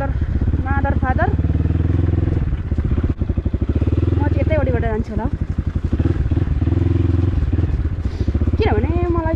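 A motorcycle riding off-road on a muddy hill track near Angsarang, Panchthar, its loud, steady engine drone running throughout with revs rising and falling, while a rider talks over it.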